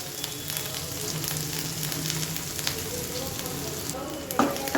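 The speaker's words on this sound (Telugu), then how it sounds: "తర్వాత అల్లం వెల్లుల్లి పేస్ట్ వేసుకుందాము." Coarsely pounded ginger-garlic paste fries in oil in a kadai for a mushroom curry, giving a steady, soft, close sizzle with a few quick clinks of stirring near the end.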